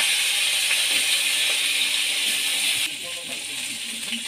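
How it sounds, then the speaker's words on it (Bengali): Fish heads frying in hot mustard oil in a pan, a loud continuous bright sizzling hiss close up that drops a little in level partway through, with no talk. "এবার ওই তেলের মধ্যে আমি মাছের মাথাগুলো দিয়ে দিচ্ছি।"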